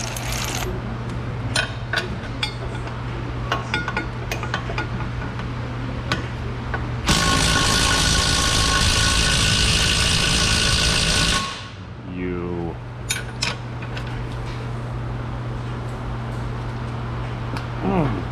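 Nuts are broken loose on the bent rear axle of a Ram 1500 pickup under collision repair. Tools clink against a steady background hum, and a loud, continuous power-tool burst runs for about four seconds in the middle.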